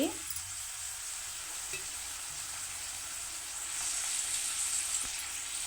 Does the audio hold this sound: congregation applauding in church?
no